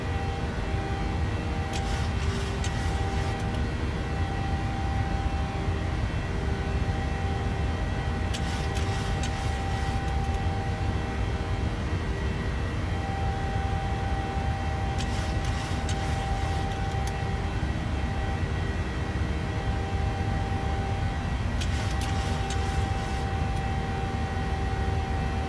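Boeing 737-800 jet engines at climb power in a flight simulator, a steady loud broadband roar with a low rumble and faint tones, continuous throughout with periodic brief hiss bursts, no talking.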